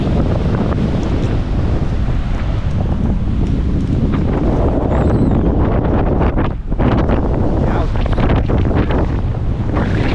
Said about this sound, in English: Feel the bass in my ear from the wind.